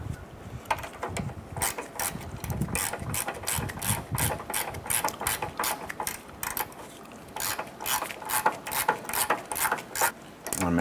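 Steady ratcheting clicks from a wrench snugging down a nut on a 2008-2012 Honda Accord front lower control arm, close and continuous in rapid bursts with no talking.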